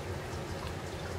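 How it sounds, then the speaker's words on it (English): Water trickling steadily in a cat's water fountain dish indoors, a soft continuous splashing and burbling, faint and even with no talk over it. "It's actually my spoiled cat's water dish."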